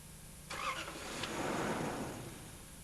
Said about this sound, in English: That is why the engine is sometimes a little slow to start when this problem is present.